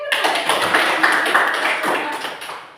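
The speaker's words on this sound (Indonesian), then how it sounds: "Tepuk tangan ya." A classroom of pupils in an Indonesian language lesson claps hands together in a short, dense burst of close, brisk clapping that tails off after a few seconds.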